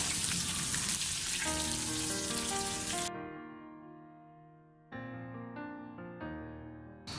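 A hot tempering of urad dal, dried chillies and curry leaves poured over brinjal chutney makes a loud, hissing sizzle for about three seconds under background music, then cuts off, leaving only the music.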